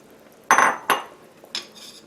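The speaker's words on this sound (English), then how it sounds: "So now I'm going to add my edamame." Shelled edamame is added to a cooking pot with a few sharp metallic clinks and rattles, three separate close bursts against a quiet background.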